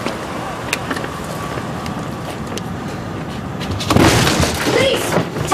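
Police force a house door, a sudden loud crashing burst after several seconds of low rumbling background, with the impact noise lingering briefly.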